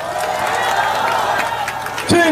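A dense crowd at an outdoor Democratic Party campaign rally for a Gangseo district mayoral by-election claps and cheers steadily, with voices shouting over sustained applause and a louder burst at the end.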